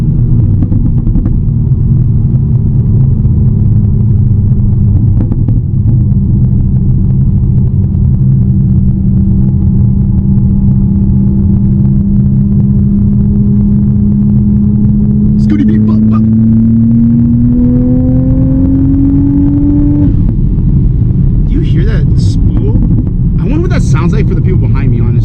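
Manual Toyota Supra engine drones steadily and loud, then a crisp downshift brings a rising rev that climbs and cuts off, with further engine sound and brief clicks afterward.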